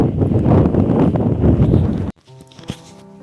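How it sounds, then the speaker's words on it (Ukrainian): Strong winter wind at four degrees below freezing buffeting the microphone for about two seconds, loud and rumbling, then cutting off to quieter background sounds with a faint click. "Ох, вітер."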